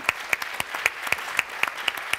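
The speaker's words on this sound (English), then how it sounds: "So can we give them a big round of applause?" Audience applause at a talk with Freedom Riders: crisp, evenly spaced claps in a steady beat, close and clear, with little else audible.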